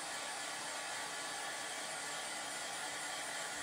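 A hair dryer blows steadily on a craft transfer laid over a black board base, a continuous loud, close whoosh that holds unchanged throughout with no talking.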